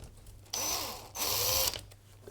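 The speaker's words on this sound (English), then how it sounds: "what I'm going to do is just screw this to this timber" A power drill driving a screw through a board into timber, heard as two close whirring bursts with a rising-falling pitch, separated by a brief pause.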